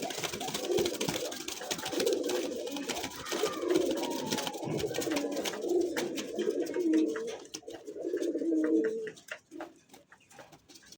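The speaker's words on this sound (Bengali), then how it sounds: "ডাকে ভাই কঠিন ডাকে কবুতরটা" A pigeon coos close by in repeated, rhythmic throaty calls over several seconds, with light clicks and handling noises around it and quieter moments toward the end.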